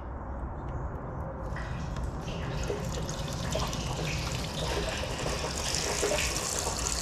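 Water rushes steadily through a rooftop solar pump storage system once the throttle opens, a continuous close trickling flow that grows a little brighter over time, with no talk.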